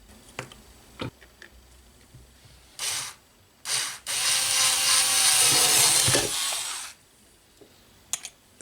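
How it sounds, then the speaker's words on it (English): Drilling two 3 mm holes in a plastic part for a Tamiya Lunchbox radio-controlled car build: a short burst of drilling, then a longer sustained whirring bore of about three seconds, with small clicks and handling knocks around it and no talk. "I need to drill 2 3mm holes"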